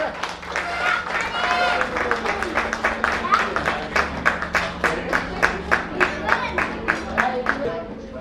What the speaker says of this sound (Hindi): एक बार तालियां प्रेम के लिए।